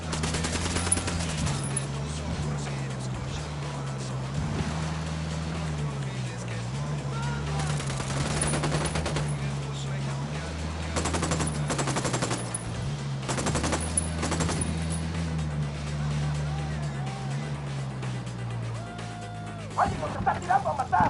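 Gunfire in the video game Ghost Recon Wildlands: sustained bursts of automatic weapons fire crackling over a droning vehicle engine, dense repeated volleys throughout with louder spikes, under occasional shouted voices.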